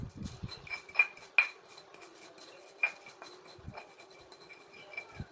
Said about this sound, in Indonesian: Kita ulek sampai halus dan merata.